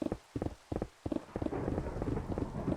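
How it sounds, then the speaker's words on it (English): A Minecraft thunderstorm: rain patters steadily under a series of soft rhythmic thumps at first, then settles into continuous hiss of falling rain, fairly close and moderately loud, with no voices. "Oh, and I guess it's a thunderstorm."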